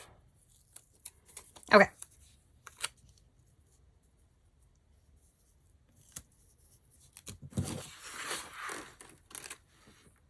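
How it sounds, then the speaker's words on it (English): Scissors snip through printable planner stickers on paper, a few quiet isolated cuts and rustles with a longer crinkly cutting passage near the end, while someone briefly speaks. "So we're just going to cut them off."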